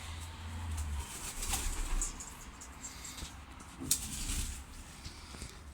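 Soft cooing of pigeons close by, low murmuring calls with a few rustles and light taps, fairly quiet overall.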